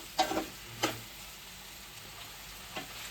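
A bay leaf, four cloves and half a cinnamon stick fry in oil in a pan with garlic, a faint soft sizzle broken by a few sharp pops and stirring clicks.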